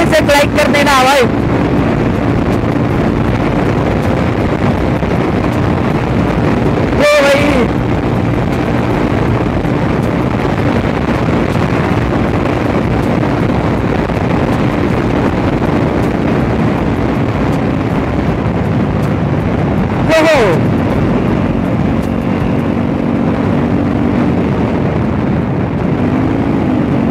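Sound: KTM Duke 250 motorcycle engine running

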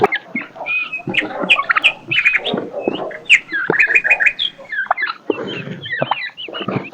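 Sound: chickens clucking while being fed

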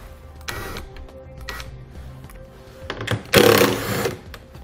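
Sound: 10mm socket removing hardware

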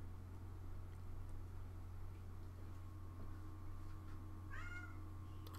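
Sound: cat meowing

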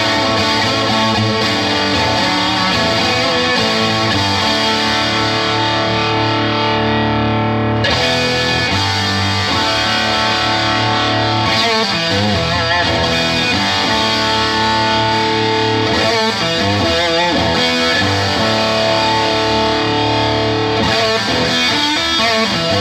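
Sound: distorted guitar through modded amp

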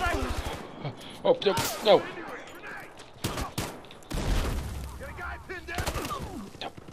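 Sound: gunfire in video game Battlefield Hardline

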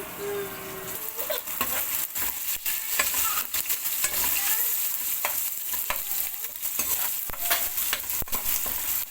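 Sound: stirring biryani rice with coriander and green chillies

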